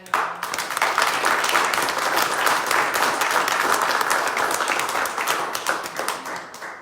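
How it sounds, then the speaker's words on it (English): Audience applause at an exhibit opening ceremony for a dance exhibition: a dense, steady round of clapping from a crowd that holds full for several seconds, then thins and tapers off at the end. "if you give her a round of applause"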